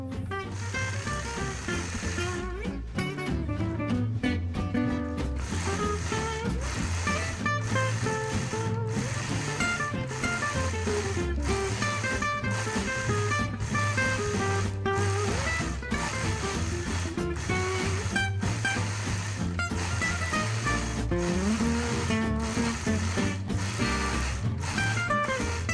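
Sewing machine quilting a star block, stitching in the ditch with a steady continuous mechanical whir and rapid needle chatter throughout, close and even, with no talking.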